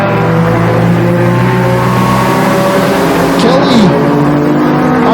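Pure Stock class stock cars racing around Flamboro Speedway. A loud, continuous engine roar and whine rises and falls as they circle, with race commentary running over the top.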